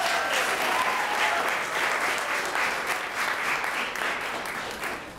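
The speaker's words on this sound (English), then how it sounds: "Just give her a nice round of applause." Audience applause at an annual Black American heritage flag raising ceremony, a steady wash of clapping that holds for several seconds and then fades slightly toward the end.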